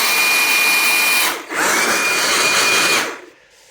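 A fake Makita DUB185 cordless blower whirs loudly at a steady high pitch, stops briefly, starts again, then winds down to quiet, heard close up.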